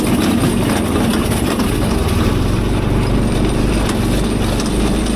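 A cheap 18HP Temu engine drives a go kart with a steady, loud, throbbing drone that holds at high RPM throughout, no voices.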